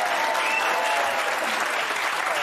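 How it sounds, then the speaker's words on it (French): A television studio audience applauds the guest Billy Crawford, dense steady applause from a large crowd filling the whole moment, loud and close with no clear voices. "Je voudrais qu'on l'applaudisse très très fort."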